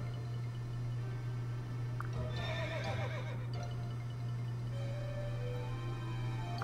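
A horse in the video game Fire Emblem Fates gives a short whinny with a few slurping, wet snorts over a steady low hum of game background sound.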